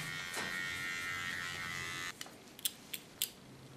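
Theo hair clipper trimming hair, a close, steady electric buzz for about two seconds, then stopping, followed by a few short sharp clicks or snips.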